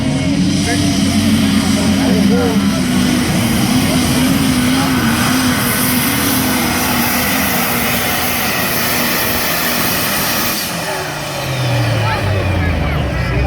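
A heavy super stock diesel semi truck makes a straight pulling pass at a truck and tractor pull, a loud, steady engine roar with a droning tone that holds throughout, with an announcer talking over it.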